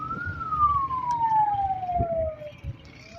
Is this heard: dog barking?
no